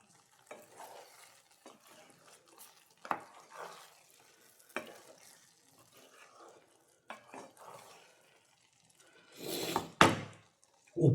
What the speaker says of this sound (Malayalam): തക്കാളി ഇട്ട് ഒന്നിളക്കുക. അതിനുശേഷം ഒരു 2 പച്ചമുളക് നഴുകി കീറിയതുകൂടി ഇട്ട് കൊടുക്കുക.